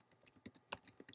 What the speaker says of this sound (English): you type e cancel bubble